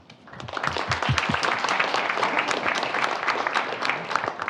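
Audience applause fills a lecture hall to welcome speaker Noam Nissan to a talk on algorithmic mechanism design, a dense, steady clapping that swells quickly and holds for several seconds with no talking.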